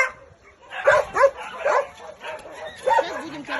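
Puppies bark, yip and whimper in kennel pens at a dog shelter, several short bursts close by and in irregular rhythm, with people talking faintly in the background.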